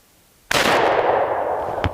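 A single loud, close 12-gauge Remington 870 Express shotgun blast fires at a target on a pallet, a sharp crack followed by a long booming decay outdoors.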